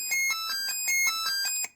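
Electronic soundboard effect from an Italian pinball machine: a rapid run of bright warbling electronic tones with high whistling harmonics, pulsing in quick repeated bursts for under two seconds, with no voices.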